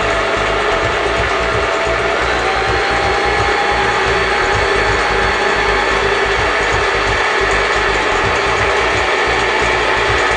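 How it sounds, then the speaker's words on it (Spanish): A Janome 1117S sewing machine winds a bobbin with a steady, continuous mechanical whir and fine ratcheting clatter, running close and unbroken throughout with no voices. "piso el control de velocidad, a las primeras vueltas corto el hilo y sigo devanando"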